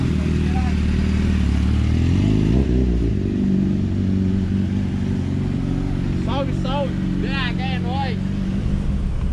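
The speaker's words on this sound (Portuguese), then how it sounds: "Olha o carro." A car passes along a road near the waterfalls of Minas Gerais during a motorcycle meetup, a loud continuous engine rumble swelling and fading over steady noise, with voices talking over it.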